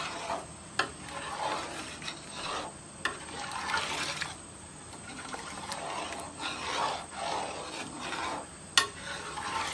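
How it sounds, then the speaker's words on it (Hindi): Chicken being stirred in a cooking pot over a low flame, repeated scraping and clanking strokes of a spoon against the metal pot over a soft sizzle, close and steady with sharp knocks now and then. "तो अब इसको हिलाएंगे अच्छी तरह, बिल्कुल आराम से आपने हिलाना है।"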